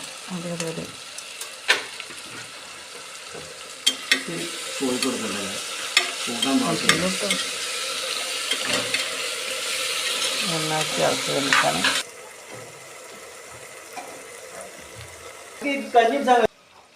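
Ingredients being sautéed with salt in a pan, a continuous sizzle with repeated scrapes and taps of a spoon, while people talk over it throughout.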